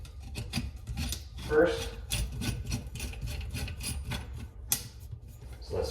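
A faucet mounting nut is turned by hand under a sink, giving repeated short scraping and rubbing strokes close to the microphone, with a brief spoken word.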